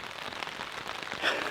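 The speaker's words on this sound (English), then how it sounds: "Finally, we have some real rain. Not super heavy, but good enough." Light rain falls steadily during an evening thunderstorm, a continuous hiss of drops on surfaces with a slightly louder patch near the end; no talking.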